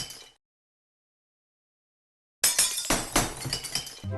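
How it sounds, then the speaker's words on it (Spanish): Glass shattering in Minecraft Bedrock 1.18 with the Mikecrack texture pack: a brief break at the start, a pause of silence, then a loud crashing burst of breaking glass with clinking fragments that runs to the end. "escuchen el sonido del cristal o al romper un cristal"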